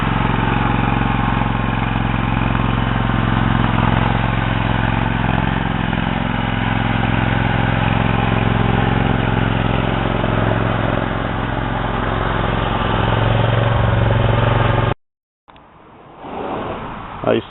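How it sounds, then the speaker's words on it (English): A Hustler Raptor Limited 52-inch zero-turn mower with a Kawasaki engine running steadily at close range for a long stretch, then cutting off abruptly before a brief, quieter rumble. "He's getting ready to unload the new tractor"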